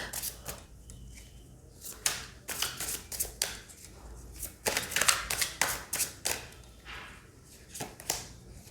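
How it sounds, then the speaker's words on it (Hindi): Tarot cards are shuffled and drawn close up, with crisp riffling bursts and sharp flicks and slaps repeating irregularly, with no talk. "I will pull out 2 cards."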